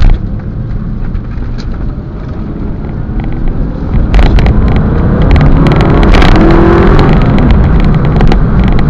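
Aston Martin Vantage engine droning loudly from inside the moving car, a steady throaty rumble that swells into a stronger rev partway through, with no talking.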